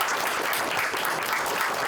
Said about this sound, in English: let's give a cheer for everything